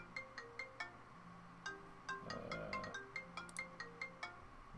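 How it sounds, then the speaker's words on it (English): An incoming-call phone ringtone plays a quick repeating pattern of short chiming notes at moderate level, steady over a faint background hum. "One second, decline that phone call."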